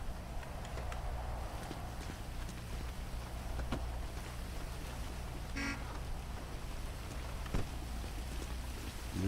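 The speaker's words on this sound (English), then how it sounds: "Oh, it's starting to rain." Rain falling in the RedLineRP video game, a soft, even patter and hiss holding at low volume throughout, with a few faint clicks and knocks scattered over it and no talking.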